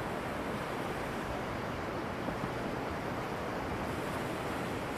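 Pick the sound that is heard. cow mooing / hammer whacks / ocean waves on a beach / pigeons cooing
ocean waves on a beach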